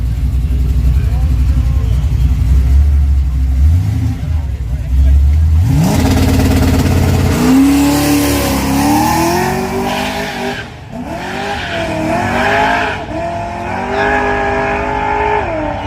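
A nitrous-equipped drag car on a street-style hood track roars and revs hard, its engine pitch sweeping up through gear changes as it accelerates away, loud and close with people talking and shouting over it.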